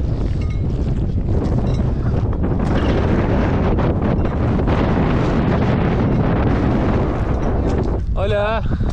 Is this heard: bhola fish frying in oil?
no